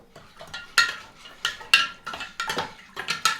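A spoon stirs sugar into tea in a pot for kombucha, sharp clinks and scrapes against the pot in an irregular rhythm, close and fairly loud, with no talking.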